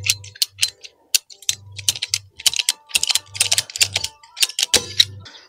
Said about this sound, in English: so I'm going to cut this as close as I can to here